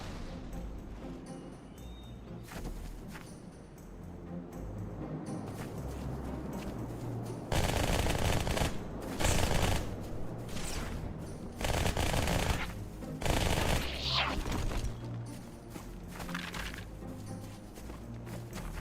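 Gunfire aimed at jackal snipers in a first-person shooter video game, bursts of rapid shots and heavy blasts over a constant rumbling game soundscape, loud and dense, with no talking.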